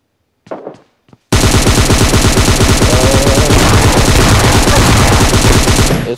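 Sustained rapid gunfire from an S12 shotgun in PUBG Mobile Lite, loud and continuous for about five seconds after a brief quiet rustle, with no talking.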